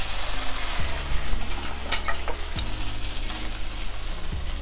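Chicken wings frying in a pan for a braised chicken wing and potato dish, a steady close sizzle with crackling pops, occasional stirring or turning scrapes, and a low steady hum underneath.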